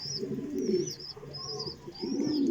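A pigeon coos in soft, repeated low phrases close by, with a few faint higher chirps from other birds in the background.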